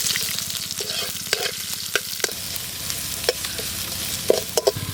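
Onions frying in hot oil with mustard seeds and curry leaves for a prawn gravy, a steady close sizzle broken by sharp pops and the scrape of stirring.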